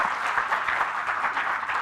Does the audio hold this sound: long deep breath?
no